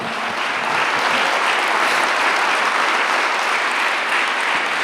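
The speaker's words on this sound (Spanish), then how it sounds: "Dele un aplauso al Señor." Church congregation applauding at a worship service, a dense, steady roar of clapping hands that fills the whole stretch at full loudness with no speech over it.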